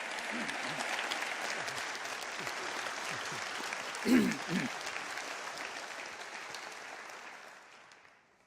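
Sustained audience applause welcoming speaker Ravi Zacharias, an even wash of clapping that gradually fades out, with a brief voice cutting in partway through.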